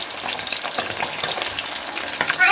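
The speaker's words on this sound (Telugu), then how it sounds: "చేపలు అయితే పర్ఫెక్ట్ ఫ్రై అవుతుందండి." Fish fries in a pan with a steady, close hiss and crackle of hot oil that runs throughout, with a slight bump at the end.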